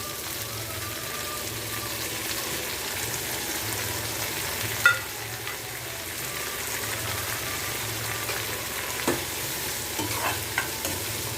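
Onion, tomato, green chili and mint sautéing for a potato masala, a steady soft sizzle with rhythmic stirring and occasional spoon knocks against the pan, close and continuous with no clear talk.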